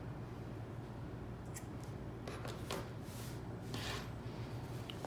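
Scissors make a few faint, brief snips and rustles while cutting material for a handbag organizer, heard quietly against steady background noise.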